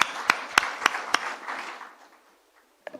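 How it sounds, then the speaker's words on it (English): An audience at an engineering excellence awards ceremony claps in a short burst of a few sharp, distinct claps that quickly thin out and fade, with a couple of late claps near the end. "a big round of applause to us as well"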